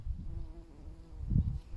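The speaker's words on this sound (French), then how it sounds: "Oh, il y a l'abeille." A bee buzzes in a vegetable garden, a low, wavering drone that rises and fades as it moves near and away over a couple of seconds.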